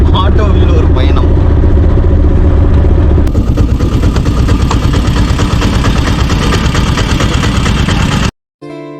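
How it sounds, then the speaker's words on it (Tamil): An auto rickshaw engine drones continuously throughout the ride, loud and close, its steady rattling rumble briefly cut near the end. "ஆட்டோவில் ஒரு பயணம்."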